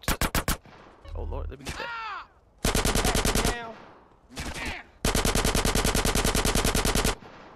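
Rapid automatic gunfire in Grand Theft Auto San Andreas Definitive Edition, a gang fight between Grove Street and the Ballas: loud bursts of rattling shots separated by gaps, with a player talking briefly between volleys.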